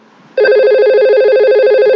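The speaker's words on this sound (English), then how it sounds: "3003 is ringing now" A simulated VoIP desk phone in Cisco Packet Tracer rings with a loud, steady electronic trill that starts abruptly and continues unbroken, close and alone with no talk.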